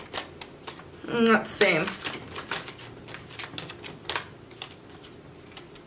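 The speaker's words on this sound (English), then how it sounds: "I'm going to find you some oracle cards." Oracle cards are shuffled in a quick riffling flutter, followed by light papery taps and shuffles, close and soft, while someone talks briefly.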